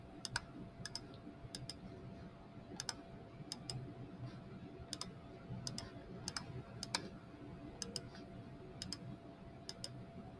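Keys tapped on a computer keyboard while an equation is entered, a faint sparse patter of short clicks in scattered pairs and bursts over a steady low room hum.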